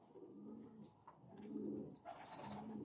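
A breeder pair of golden pigeons with chicks coo softly in repeated low, rolling phrases, quiet and close with faint background noise.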